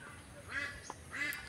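Ducklings kept in confinement give two short, faint quacking calls about half a second apart, heard at a distance against a quiet background.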